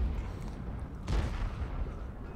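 A T-34-3 tank cannon fires in World of Tanks: a single muffled boom over a steady low battle rumble, not especially loud.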